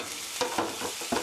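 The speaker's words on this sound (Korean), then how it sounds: "양파가 투명하게 잘 볶아졌으면 여기에 토마토 넣어주세요." Onions sauté in a pan with tomato added for a cheese omelette, a soft continuous sizzle close up, punctuated by a few quick scraping stirs.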